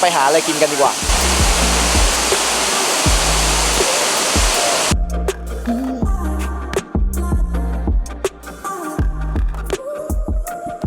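A waterfall in an autumn forest in Utah roars in a steady, loud rush for about five seconds, then cuts off abruptly, leaving scattered quieter thumps and sounds.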